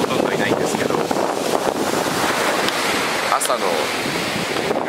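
Strong ocean surf and gusty wind buffet the microphone on a Bali beach in the cold early morning, a constant loud roar of breaking waves with a person speaking briefly over it.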